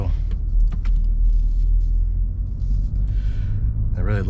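A BMW M3 G80 pulls away and drives off, a loud, close cabin-side engine rumble rising and settling, with a few short clicks and a brief voice near the end.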